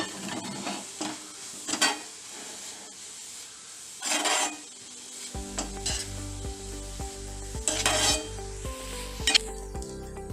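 Masala of turmeric, coriander, garam masala, cumin powder and ginger garlic paste stirred and scraped in a pan with a light sizzle and bursts of rubbing strokes, while low music plays through the second half.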